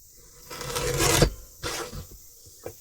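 Paper being trimmed down to width for a belly band in a lace and stencil craft project, heard as a few short rasping cuts and scrapes, close and fairly quiet, with brief pauses between strokes and no talking.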